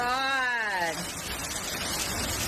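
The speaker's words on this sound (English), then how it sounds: "It's hailing. Please don't break my windows." Hail pours down during a winter storm in California, a dense steady hiss of pelting ice over a short exclaiming voice at the start that quickly fades under the clatter.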